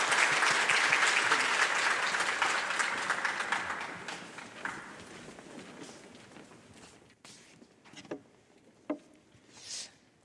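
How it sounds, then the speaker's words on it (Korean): A church congregation applauds during a special early-morning prayer service, the clapping loud at first and then thinning out over several seconds into a few scattered claps and small sounds. "인도하시는 하나님께 영광의 박수를 보내겠습니다"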